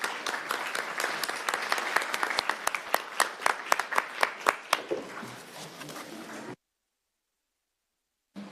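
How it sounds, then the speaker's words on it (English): Audience at a City of Tacoma nomination ceremony applauding the nominee, a full crowd clapping with a few sharp individual claps standing out, then cutting off abruptly into silence. "And will you join me in giving a round of applause?"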